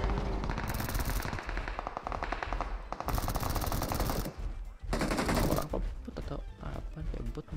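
Rapid automatic gunfire in a battle royale video game crackles in repeated bursts, loud and close, with short gaps between volleys.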